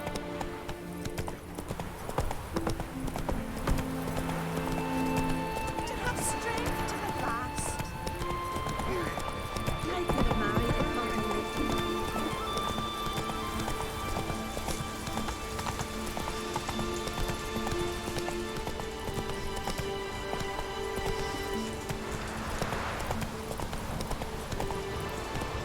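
Roach, a horse in The Witcher 3, gallops with rapid rhythmic hoofbeats that drive on steadily and close by, while talk and light game sounds run over them.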